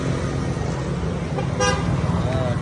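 Dense traffic on a crowded road, a constant engine rumble with a brief car horn toot rising above it midway and a voice faintly mixed into the din.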